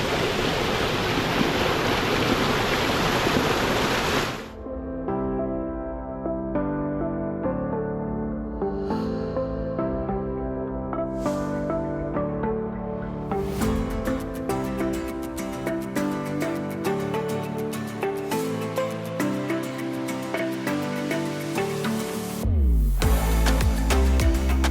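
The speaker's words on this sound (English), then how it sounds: "Go under the waterfall." A waterfall at a riverside campsite gives a loud, steady rushing roar for the first few seconds, then music abruptly takes over.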